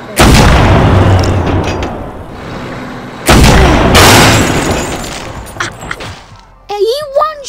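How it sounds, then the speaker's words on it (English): A tank fires its cannon in a modded SCP video game: two heavy, loud booms several seconds apart, each trailing into a rumbling decay, followed by a brief voice near the end. "Let me just get a tank to take out"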